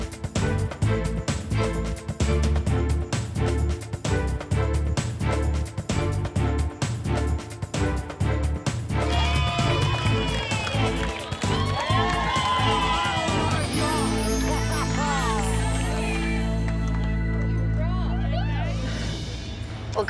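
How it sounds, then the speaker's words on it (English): A large crowd cheers and shouts continuously for runners on the last 400 metres of a race, with loud sustained whoops and voices rising near the end and people talking over it. "You can hear everyone cheering"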